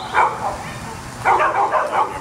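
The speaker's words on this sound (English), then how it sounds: "I think your dog is going to answer that one." A dog barks and yips in two clusters of sharp, close barks separated by a brief lull, with a person's voice faintly underneath.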